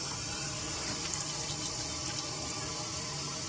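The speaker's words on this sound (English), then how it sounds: "I just go ahead and rinse it off." A bathroom tap runs steadily into a sink while a face is rinsed, giving a close, continuous hiss of flowing water broken by a few small splashes.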